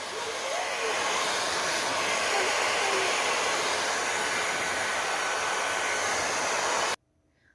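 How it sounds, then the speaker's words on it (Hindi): Hair dryer blowing on a child's hair after a shower, a loud, close, steady rushing whoosh that runs unbroken for about seven seconds and then cuts off abruptly. "बाल ड्राई कर रही हूँ"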